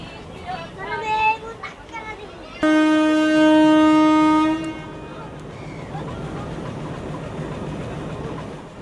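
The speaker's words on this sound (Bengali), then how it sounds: "ট্রেনের ইঞ্জিন লাগানো শেষ, এখন হরেন দিয়ে দিছে" A passenger train's horn blares loudly and steadily for about two seconds at a rail station on the Narayanganj to Dhaka line, after talk nearby and before a low rumbling background with faint voices.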